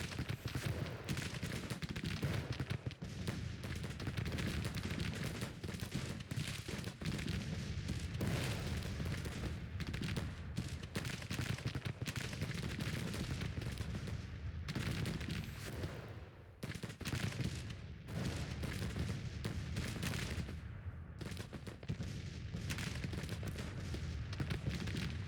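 Continuous Civil War battle din in Grand Tactician: The Civil War, with cannon artillery and musketry blending into a dense, rumbling roar of overlapping booms and crackling volleys that never lets up.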